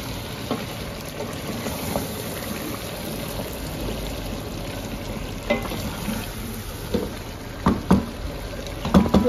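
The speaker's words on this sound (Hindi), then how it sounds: "अब इनको हम अच्छे से ऊपर नीचे करेंगे," Eggplant and potatoes frying with nigella seeds and green chillies are stirred in a pan, giving a steady close sizzle with scattered scraping and clacking stirs that grow louder toward the end, no talking.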